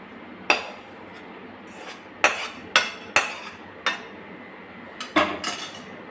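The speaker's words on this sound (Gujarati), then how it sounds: "અને ચમચાની મદદથી આ રીતના આપણે સ્પ્રેડ કરી દઈશું" A metal spoon scrapes and clinks against a greased plate while spreading a warm sukhdi mixture of jaggery, ghee and flour, with several sharp taps and scrapes spaced irregularly, close and fairly loud.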